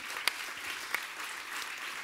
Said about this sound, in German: Tosender Applaus bitte